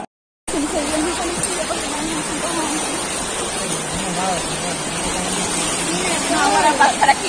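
Floodwaters of the swollen El Limón river rush past in a loud, steady roar that fills the whole clip, with excited voices audible over the torrent.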